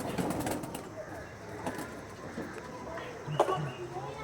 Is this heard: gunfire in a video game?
no